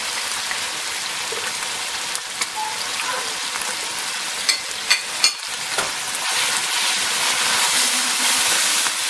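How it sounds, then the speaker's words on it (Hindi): Spices and soy sauce frying in a pan for chicken macaroni, giving a loud, steady, close sizzle like rain, with a few sharp scraping stirs in the middle and no voices. "मसालों को अच्छी तरह मिक्स कर लेते हैं"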